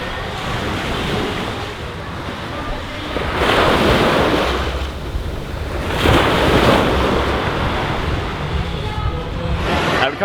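Ocean surf rolling onto Pattaya beach in Thailand, with loud washes of waves swelling and receding every few seconds amid wind noise on the microphone.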